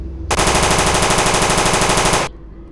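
A toy Spider-Man gun fires a rapid machine-gun sound effect, one loud burst of about two seconds that starts and stops abruptly, close and alone.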